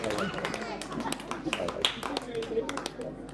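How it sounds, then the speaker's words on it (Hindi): Audience clapping for young performers at a Ramleela show, scattered hand claps and taps running under a talking host. "जोरदार तालियां इन युवा प्रतिभा के लिए"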